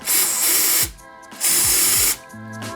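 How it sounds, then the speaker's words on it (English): Two long, loud hissing bursts from an aerosol can of brake cleaner, each lasting under a second, separated by short pauses with faint clatter, during an oil temperature gauge install on a 9N3 Volkswagen Polo GTI. "Get some brake cleaners, clean it up"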